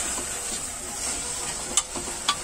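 Tomatoes and onions frying together in a pan for pav bhaji, a soft, steady sizzle with a couple of sharp utensil clicks near the end, quiet and close.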